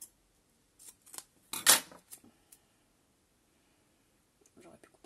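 Scissors cut 3D foam tape for a scrapbooking card: a few crisp snips, one louder and sharper than the rest, close and quiet, with a soft voice murmuring briefly near the end.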